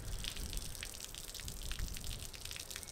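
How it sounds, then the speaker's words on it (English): Water gushes and pours steadily out the back of a farm trailer, a continuous splashing rush with dripping, no talk over it. "Judging by what is coming out the back of it, I'd say there's a bit of water in it."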